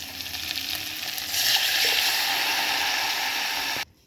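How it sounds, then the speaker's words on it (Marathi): Spinach poured into a sizzling tempering of chillies, as for a rustic village-style spinach gargat, hisses loudly, swelling in intensity partway through before stopping abruptly, with no talking. "त्याच्यामध्ये मी आता हा पालकही ओतून घेणार आहे।"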